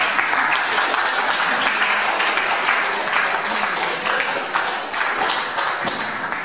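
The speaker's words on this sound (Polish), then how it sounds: "brawa" Steady, dense applause fills a concert hall at a music school, the audience clapping continuously and loudly throughout with no pause.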